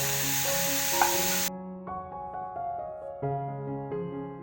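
Onion, green chili, ginger and curry leaves sizzle in a hot pan, a bright hiss for about a second and a half under steady background music that carries on alone afterwards.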